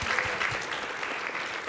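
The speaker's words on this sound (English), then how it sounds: "Ladies and gentlemen, a round of applause for the panelists, please." Audience applause for a film panel at an evening Q&A celebration, a dense, steady wash of many hands clapping at close range with no pauses.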